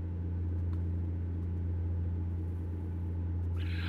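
Truck engine in the video game American Truck Simulator, heard as a steady low, even drone that runs the whole time with no talk, plus a faint brief higher tone near the end.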